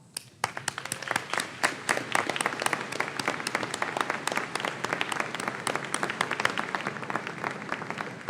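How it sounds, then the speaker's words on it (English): A crowd at a high school commencement ceremony gives a standing ovation: dense, sustained clapping from many hands, steady and even throughout, heard at some distance in a large hall. "For this, we give you a standing ovation and applause."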